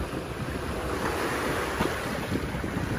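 Wind and waves at the Manila Bay yacht club make a constant broad rush, with heavy wind buffeting on the microphone and water washing close by, with no talk.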